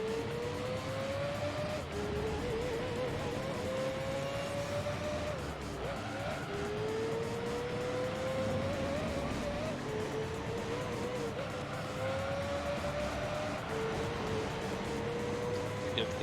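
A Mercedes CLK race car in Gran Turismo 3 revs hard through repeated upshifts, with its engine pitch climbing and dropping in a steady cycle against a constant game background.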